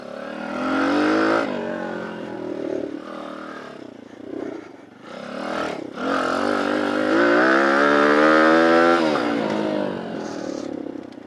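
A Tao Tao DBX1 dirt bike revs up through rising engine pitches, drops off briefly between gear shifts, then climbs again into third gear, loud and close with no talking.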